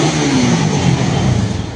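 A Suzuki Satria FU motorcycle engine idles after being restarted from seven years of storage, a close, smooth and steady running note with a slight rise in pitch partway through and no talking over it.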